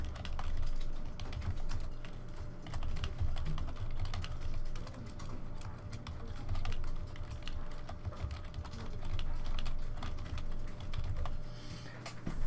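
Continuous typing on a computer keyboard, with dense, fast keystrokes running throughout under a low background hum, close and steady with no pauses longer than a moment.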